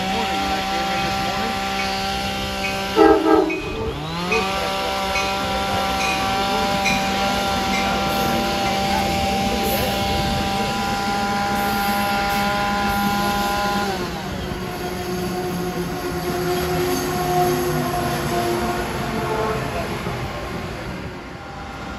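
A Keystone passenger train from Harrisburg pulls into a station, a loud sustained rumble with tonal engine hum and a falling pitch sweep near the start, steady rolling noise throughout.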